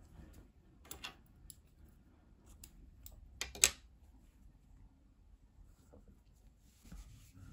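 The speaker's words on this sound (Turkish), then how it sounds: "İpliği kesiyorum." A quiet snip of scissors cutting knitting yarn after the last stitch is joined, with a few faint ticks and rustles around it in an otherwise still room.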